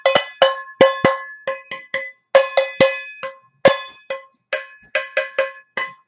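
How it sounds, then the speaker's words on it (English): A wooden spoon strikes a pot in quick bright metallic hits, about eighteen clanks in irregular clusters with short ringing tails, close and clear with no talking. "you can take a wooden spoon and a pot of some kind."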